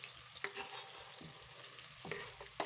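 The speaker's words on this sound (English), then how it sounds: "Leave it to saute for a minute" Onions and celery sautéing in oil in a pan for vegetable soup, a soft, low sizzle with a few light clicks of stirring, faint and steady throughout, no voices.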